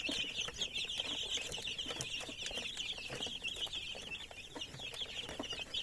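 Native darag chickens clucking at a feeder, a busy flock chattering continuously with scattered pecking and soft rustling, close by and without speech.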